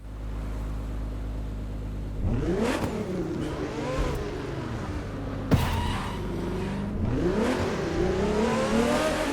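Hypercar engine in The Crew 2 accelerating hard, revving up through rising gear pulls with a sharp shift break midway, loud and steady throughout without any talking.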